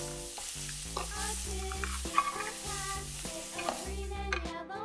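A pretend egg frying in a toy kitchen pan gives a steady, soft sizzling hiss under louder background music, continuing throughout.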